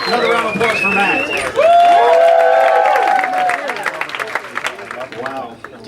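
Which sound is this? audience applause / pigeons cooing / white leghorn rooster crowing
audience applause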